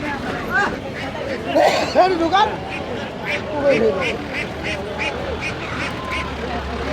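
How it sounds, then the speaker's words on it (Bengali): Ducks quacking at a busy winter poultry market in Tongi, with repeated loud nearby quacks over a steady crowd murmur and people talking. "এখানে কিন্তু হিউজ পরিমাণ হাঁস আছে"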